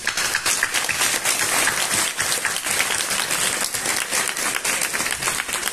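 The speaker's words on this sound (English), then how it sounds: "I would like all of you to give a big round of applause along with me to Sir Richard." Audience at a felicitation ceremony for a mathematician gives a sustained round of applause, dense and steady clapping from many hands at close range for the whole stretch, with no speech over it.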